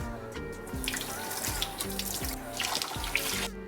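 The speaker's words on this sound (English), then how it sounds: "Heating your knife in hot water is crucial." Hot water runs from a tap as a knife is rinsed between cuts of firm matcha chocolate, a continuous close splashing stream with faint clinks and no talking.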